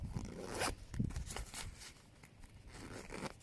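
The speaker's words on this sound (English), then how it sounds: "zip the white one up so it's in the bag" A compression packing cube being zipped shut, with a few quick, close zipper pulls in short bursts and no talking.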